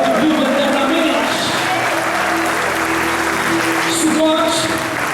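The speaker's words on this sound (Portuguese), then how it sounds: "Quantos esperam nesse Deus? Aplauda bem forte." Church congregation applauding loudly during a Portuguese-language Feast of Tabernacles sermon, steady dense clapping throughout with voices and a speaker's talk mixed in over it.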